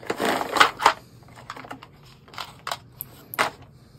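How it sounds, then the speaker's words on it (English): Clicky mechanical keyboard switches being handled for assembly into a 3D-printed fidget, producing a scattered series of sharp plastic clicks and rattles, close and fairly quiet, irregular in rhythm. "these are the keyboard switches"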